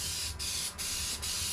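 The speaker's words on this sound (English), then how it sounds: "Give it a spray." An aerosol can sprays adhesive onto a car dash pad in a workshop, giving a close, steady hiss in three short bursts separated by brief gaps.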